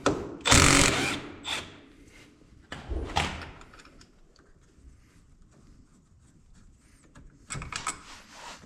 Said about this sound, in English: So there's these two 14 millimeter bolts back here. We're gonna go ahead and remove both of those